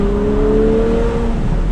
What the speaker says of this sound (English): This is exactly what you want from a convertible V12 Ferrari. Wind in your hair, glorious noise.